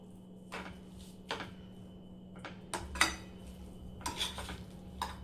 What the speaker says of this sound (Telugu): సబ్జీ మసాలా యాడ్ చేసిన తర్వాత ఇంకా బాగా అయితే మిక్స్ చేయండి ఒకసారి